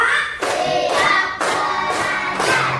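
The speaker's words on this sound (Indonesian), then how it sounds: "Coba tepuk 1, tepuk 2, tepuk 3" Children in a primary school classroom clap their hands in a counted sequence, a few loud bursts of group clapping separated by brief pauses, close and clear with no talking.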